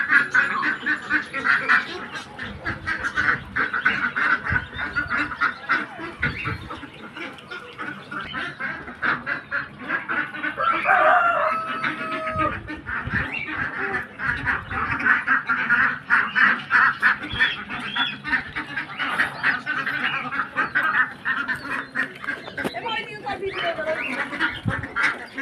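Ducks feed at a farmyard with chickens nearby, giving a continuous chorus of quacks and honks that runs throughout at moderate level, with a person talking over it at times.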